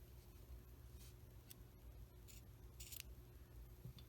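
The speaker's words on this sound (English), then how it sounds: "we are going to cut our yarn here" Scissors snip through yarn while a crochet coaster is finished off: a few quiet, brief cuts spaced across a few seconds over a low steady hum.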